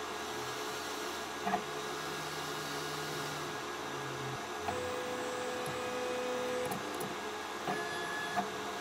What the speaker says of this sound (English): let's see how Ortur performs at cutting 3mm and 6mm poplar plywood boards